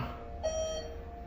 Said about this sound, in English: grocery beep